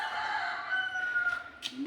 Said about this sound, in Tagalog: Ginolang manok.